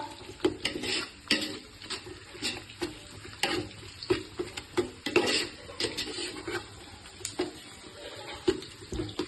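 Biryani masala is stirred in a pot, with irregular metallic scrapes and knocks of a spoon against the pot over a soft bubbling and sizzling bed, close up.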